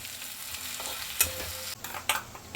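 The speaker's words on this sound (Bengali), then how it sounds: "পেঁয়াজটা ভাজতে একটু সময় লাগে, এই প্রসেসটা আমি একটু ফাস্ট করার জন্য এতে সামান্য একটু নুন দিয়ে দেবো" Chopped onions frying in oil with a pinch of salt: a soft, steady sizzle close by, broken by sharp scraping clicks as a spatula stirs the pan, with no voices.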